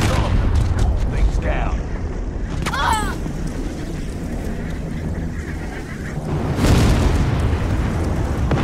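A bomb detonating in Call of Duty Warzone, heard as a loud, rumbling boom toward the end after a stretch of ongoing game noise with brief voice chatter and a honk-like tone.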